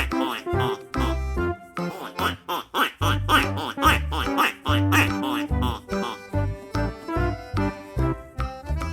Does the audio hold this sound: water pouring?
no